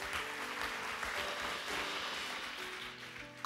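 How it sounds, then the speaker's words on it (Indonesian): A church congregation claps during a sermon, giving applause for Jesus in a steady, moderately quiet wash of hand claps with a low murmur underneath. "Kasih tepuk tangan dong buat Tuhan Yesus."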